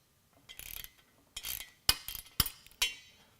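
A 9/16 wrench working the retaining bolts off an oar handle gives faint, scattered metallic clicks and clinks, a few sharp ratchet-like ticks spaced apart in a quiet room.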